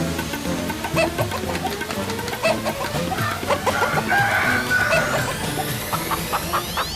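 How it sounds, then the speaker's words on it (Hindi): A rooster crows and clucks indoors inside a house, with repeated sharp clucks and a rising crow, fairly close and loud, over a busy background with no talk. "ये मुर्गा घर के अंदर कहां से आया?"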